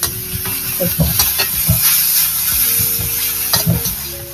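Ingredients sauté in a pan with a bright, steady sizzle close by, broken by repeated scraping stirs and small bursts of crackle. No talking.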